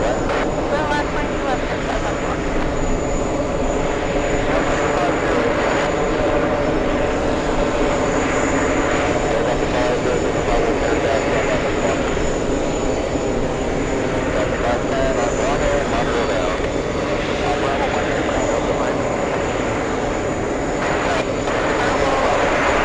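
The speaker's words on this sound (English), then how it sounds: "I'm gonna zoom in to the to Emirates A380." An Emirates Airbus A380 jet at JFK airport, heavy and loud, its sustained engine roar filling the whole stretch with a constant droning rumble and a faint high whine above it.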